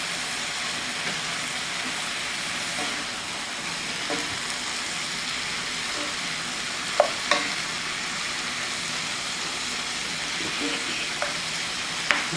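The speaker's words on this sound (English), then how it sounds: "add the andouille sausage back in to give it a little more flavor" Andouille sausage and mushrooms sizzle steadily in a pan, a close, even frying hiss with occasional utensil clicks and taps, with no talking over it.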